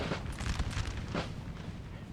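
Artillery fire rumbles through a Napoleon Total War multiplayer battle near a town: dull booms and low cannon thuds blend into a steady, distant roar of battle under a talking voice.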